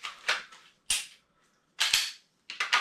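Dry fire trigger pulls on a Smith & Wesson pistol: four separate sharp metallic clicks, each with a little mechanical rattle, close and crisp with quiet gaps between, no voices.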